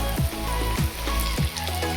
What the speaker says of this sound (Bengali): আমি ডিমের চপগুলোকে ভাজতে দিয়ে দিয়েছি।